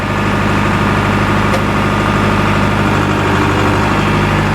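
A Powertrac tractor engine runs loud and close with a steady, throbbing idle and constant mechanical vibration, no voices over it.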